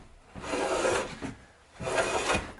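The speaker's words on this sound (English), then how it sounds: "Then I removed the saw marks with a finely set smoother." Two long, close rasping strokes of a finely set smoothing plane shaving saw marks from a thin wooden board, each pass a breathy scrape with a brief pause between them.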